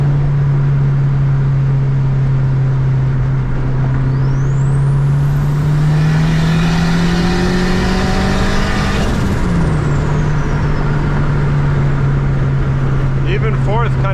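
A big turbocharged Honda Accord engine pulls hard under boost, a loud steady drone whose pitch climbs through the gear, with a rising turbo whistle and a brief dip as the throttle eases before settling again.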